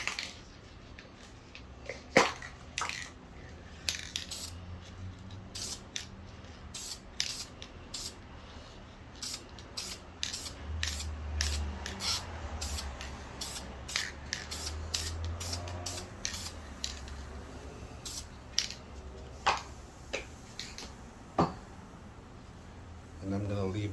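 Aerosol plastic dip goes onto a Dodge Durango roof AC vent in repeated short, sharp hissing bursts close by, with someone talking between and over the sprays.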